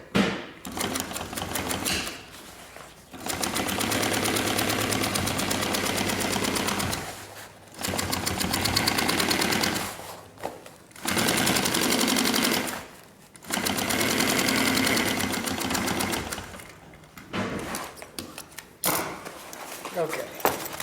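A sewing machine stitches fabric for a homemade backpack, running in long, loud mechanical whirring bursts separated by short pauses. The bursts repeat for most of the stretch, with talk in the quieter gaps.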